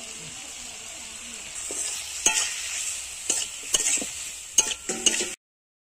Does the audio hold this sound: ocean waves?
no